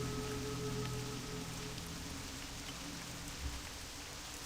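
Steady ambient rain in World of Warcraft, a soft even patter on surfaces continuing unbroken throughout, moderately quiet with a faint low hum beneath.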